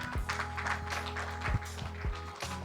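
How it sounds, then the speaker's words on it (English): An audience at a health and medical awards event applauds the group Act Now, a steady wash of clapping under a low humming background tone, punctuated by a few deep thumps. "giving big round of applause to Act Now"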